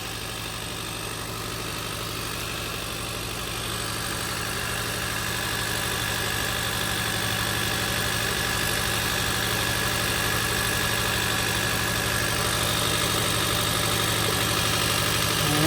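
A car engine idles steadily for several minutes while heating up, checked for a suspected head gasket problem; a constant, loud, even hum with a faint rise in level and no talking.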